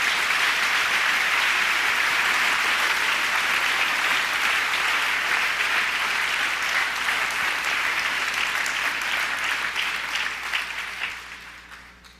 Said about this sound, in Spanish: ¿No le da un aplauso a Cristo por todo esto esta mañana?